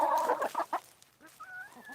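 Backyard chickens cluck in short bursts, fairly close, with a louder flurry of clucks at the start and softer, scattered calls trailing after.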